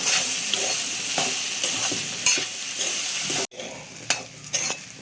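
Food sizzles in a hot frying pan as a spoon stirs and scrapes through it in rhythmic strokes, close and loud, ending with a few louder clacks against the pan.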